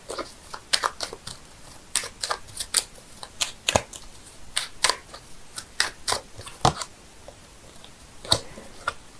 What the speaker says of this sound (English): I'm shuffling the cards here, seeing if I can get a clarifying card